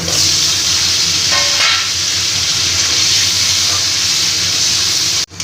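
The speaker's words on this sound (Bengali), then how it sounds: "তেলে আমি আলুগুলো ভেজে নিচ্ছি" Potatoes frying in hot oil for a winter koi fish curry, giving a loud, continuous close-up sizzle and hiss that holds steady throughout before a brief dropout at the very end, with no talk.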